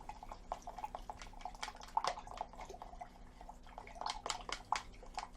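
A homemade gesso mixture with PVA glue is stirred steadily, giving faint, close, wet clicking and dripping sounds in a quick uneven rhythm for several seconds.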